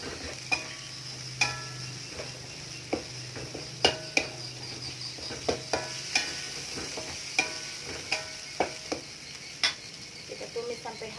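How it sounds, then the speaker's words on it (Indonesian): Chopped galangal and lemongrass sauté in a pan with a steady low sizzle, punctuated by repeated clinks and scrapes of a spatula stirring against the metal, close and moderately loud with no talk. "Tumis sampai harum"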